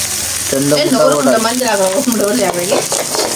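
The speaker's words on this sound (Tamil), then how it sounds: "ஒரு முட்டை ஊற்றியாச்சு" Egg poured onto a hot griddle for street-style kothu roti sizzles loudly and steadily throughout, with people talking over the frying.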